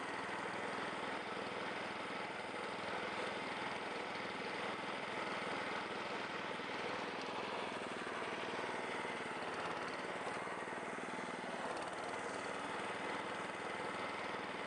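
An Allett Buffalo 20 cylinder lawn mower runs steadily while striping a lawn, giving a constant, even engine drone and whir of the cutting cylinder without pauses or voices.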